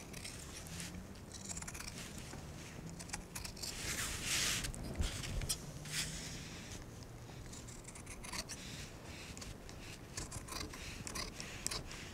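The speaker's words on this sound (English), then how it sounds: "with your scissors on a curve like this, you're actually trimming the facing side a little bit shorter for the seam allowance than the jacket" Scissors trim the facing fabric along a curve while an unlined jacket is sewn, producing a steady run of soft close crunching snips and fabric rustle, with no talking.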